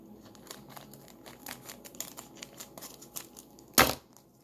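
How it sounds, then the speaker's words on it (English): Scissors snipping through plastic toy packaging from a Spider-Man McDonald's toy, a close series of crisp crinkling cuts and rustles ending in one loud tearing snap. "Let me get some scissors."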